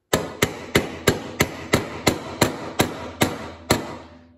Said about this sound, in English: I'm going to tap the shell deflector a few times